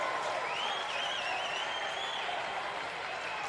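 Baseball fans at a Class 4A state championship game between Lake Central and Mooresville cheer in a continuous, loud crowd roar, with a whistle rising above the noise.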